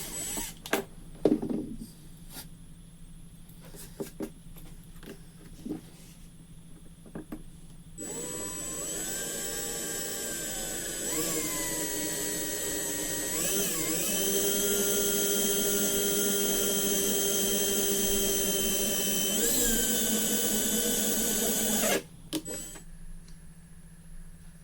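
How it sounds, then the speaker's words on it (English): An electric drill whirs steadily for about fourteen seconds, its pitch shifting as it bites in, preceded by scattered clicks and handling knocks. "It's very important to drill straight on this."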